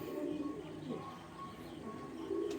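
Ground roller pigeons coo softly in a loft, a steady run of low murmuring calls with a few faint chirps, close by and with no talking.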